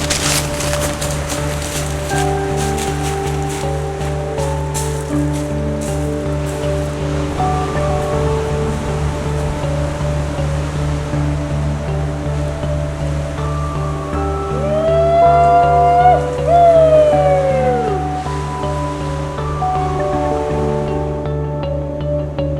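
Ocean waves break and wash continuously onto a beach, a broad roaring surf with a steady low rumble and occasional faint bird calls over it, no talk.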